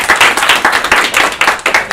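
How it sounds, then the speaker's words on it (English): Close, loud clapping from an audience welcoming presenter Kate Noble, with distinct rhythmic bursts of hands that swell and dip in quick succession. "please give a warm round of applause and welcome for Kate Noble"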